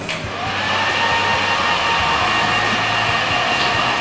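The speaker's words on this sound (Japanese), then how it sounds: "乾かしていきます。" A hair dryer blows steadily and loudly while a stylist dries hair at a salon, a continuous close whooshing roar lasting throughout with no talking.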